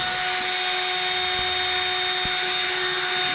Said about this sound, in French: Il faut bien le mixer pour que ça remonte à la surface.